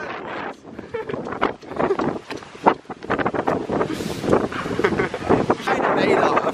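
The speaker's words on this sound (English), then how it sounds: "Lads, it's a bit windy." Strong gusty wind buffets the microphone in an open football stadium during a Fremantle versus Richmond AFL match, a steady roaring rumble that rises and falls throughout, with people talking and shouting over it.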